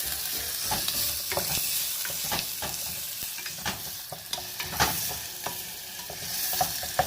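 Onions sizzle and fry in warm oil over medium-high heat for a chickpea picadillo, a steady crackling hiss broken by scrapes and knocks of a spoon stirring in the pan.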